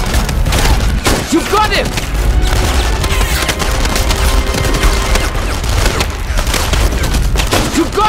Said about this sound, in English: We set out explosives, barrels and ammo crates on the street. One hit and boom!